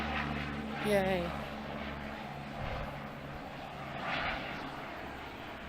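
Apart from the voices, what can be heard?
airplane flying in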